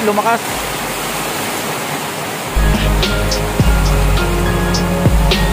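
Heavy rain pours outdoors on a farm and grows stronger, a dense close hiss that jumps louder about halfway through, with a few clattering knocks and patters over the steady roar.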